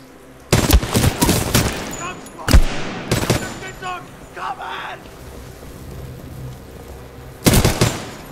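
Bursts of rapid gunfire in Titanfall 2 crackle loud and close, a dense volley in the first two seconds, then single sharp shots, a lull, and a final burst near the end.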